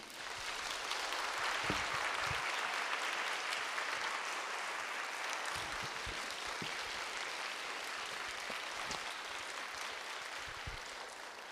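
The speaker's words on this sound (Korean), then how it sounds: "하나님께 영광의 박수 올리겠습니다" A church congregation at a young adults' service applauds as a missionary comes forward, a broad steady wash of clapping from many people sustained evenly throughout.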